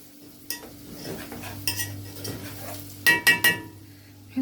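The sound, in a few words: stirring food in a pot with a spoon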